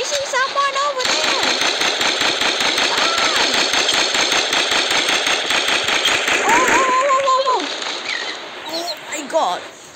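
Rapid automatic gunfire from an AK in a shooter video game rattles loudly and continuously for several seconds, then stops. A voice talks over parts of it, and brief electronic tones sound near the end.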